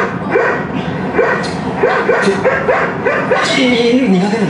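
A dog barks repeatedly in short yips and bow-wows, loud and close, mixed with background chatter and other sounds, with voices talking nearby.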